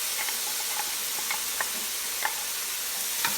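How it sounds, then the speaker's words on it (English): Diced onion sautéing in a pot for a cabbage meatball soup, a steady hissing sizzle broken by soft occasional taps and pops, heard close with no talking. "And we're going to saute those up."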